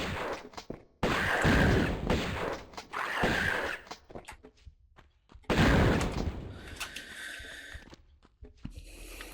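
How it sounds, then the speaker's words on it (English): Shotgun blasts in Tomb Raider Gold Remastered, fired at Atlantean enemies in the Atlantean Stronghold: two loud, booming blasts several seconds apart, each with a long decay and scattered clatter between them. "if you can get your shotgun blasts in fast enough, you will be able to kill both of those Atlanteans"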